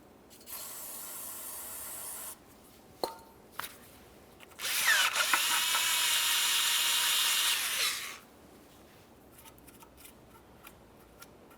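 An ABS sensor bore on a 2010-2013 Kia Forte Koup gets sprayed with parts cleaner and scrubbed with a bore brush, heard as two hissing bursts of spray, the second longer, with brief scraping clicks between and after them.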